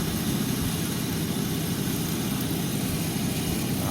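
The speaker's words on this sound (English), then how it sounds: "I'm just gonna turn on the fan to see what it does" An Amana PTAC unit's blower fan runs with a steady, loud, dense roar and a grinding undertone, constant and close with no pauses or voices.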